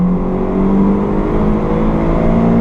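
A Honda Civic ED7 on the Fontenay-le-Comte race circuit pulls hard under acceleration, its engine note a loud, steady, close drone climbing slowly in pitch with no voices over it.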